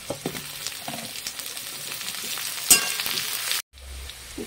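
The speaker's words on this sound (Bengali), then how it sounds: "পেঁয়াজের সঙ্গে আমি আলুগুলোও ভেজে নেব।" Potatoes and onions frying together in a pan with cumin and bay leaf, a steady close sizzle with occasional stirring scrapes, cutting off abruptly near the end.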